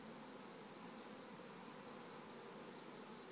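A swarm of bees flies close overhead while being caught, a dense, continuous buzzing drone that stays steady and loud throughout with no voices.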